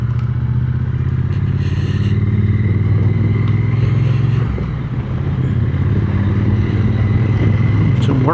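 A Triumph Speed Twin 900 motorcycle rides along an Aberdeenshire B road, its engine giving a loud steady drone with wind rush and road rumble throughout, the tone easing briefly midway.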